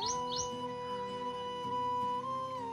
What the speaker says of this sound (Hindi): बिल्कुल ये चिड़िया चहचा रही है पीछे से